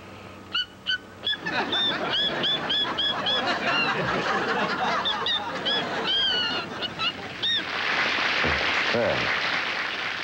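A person imitates the call of a goldfinch with quick, repeated high chirps and twittering trills, loud and close. The imitation gives way to a broad burst of noise near the end.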